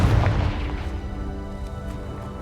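Explosive Confringo spell blast in Hogwarts Legacy: a deep booming burst at the start that rolls off into a long, fading rumble with faint rattling debris.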